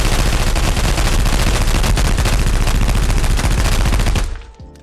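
Fully automatic gunfire from a large magazine in the video game Contractors ExfilZone: one loud, unbroken rapid burst of shots that runs for several seconds and then cuts off sharply.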